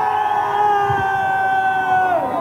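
A TV studio audience at the Loft Story reality show finale cheering and whooping as one loud, sustained crowd roar, with sliding shouted tones rising and falling through it.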